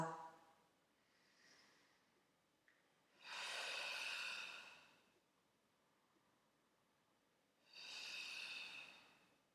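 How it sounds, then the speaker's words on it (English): Two deep, audible breaths during a Pilates exercise, each a long airy rush lasting a couple of seconds, close to the microphone and spaced several seconds apart, with faint quieter breathing in between. "And inhale. Exhale."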